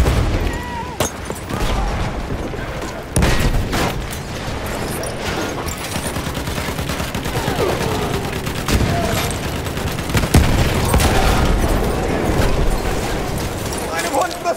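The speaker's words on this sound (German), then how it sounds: "Ich werfe eine Granate!" Grenade explosion in a German-language war video game, heard amid a dense, continuous battle soundscape of rapid gunfire and booms, with sharp loud blasts near the three- and ten-second marks and voices talking over the fighting.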